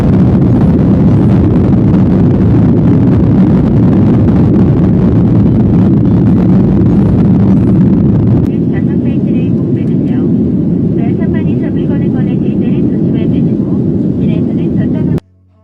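Steady, loud roar fills the cabin of a passenger airliner just after boarding, a dense engine and air hum that eases slightly about halfway through before cutting off abruptly at the end.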